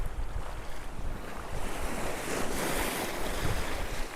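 Sea waves splash and surge against a small boat near St Mary's Island off Malpe, Udupi, a continuous loud rushing wash mixed with heavy wind buffeting the microphone, building slightly toward the end.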